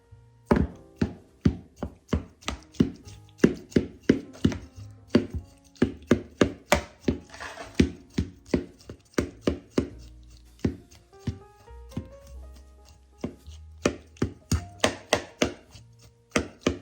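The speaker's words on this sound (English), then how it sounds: "I forgot to cut up my apples." A knife chops apples on a cutting board in rapid, regular thunks, close and crisp, pausing briefly now and then before the steady rhythm resumes, with no voice.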